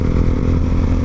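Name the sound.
motorcycle engine while riding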